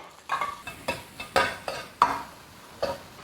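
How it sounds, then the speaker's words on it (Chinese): Cured pork (larded bacon) stir-fried in the oil left after frying crucian carp in a wok, with a steady sizzle broken by about six sharp scrapes and tosses of the spatula, close and moderately loud. "将就这个油锅放入腊肉"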